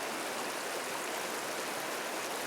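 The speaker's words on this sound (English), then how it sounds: "We're on the bridge that crosses the Virgin River." Clear Virgin River in Zion National Park rushing under a footbridge in February, a constant broadband watery roar, close and steady with no voices.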